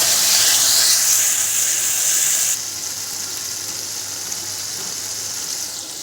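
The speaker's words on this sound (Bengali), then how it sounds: "এটা ভালো করে ভেজে দেবো আমি।" Ginger garlic paste with tomato paste, red chili powder and spices sizzles in hot oil while frying for a soybean and chhena curry, a steady loud hiss that drops to a softer sizzle partway through, with no talking.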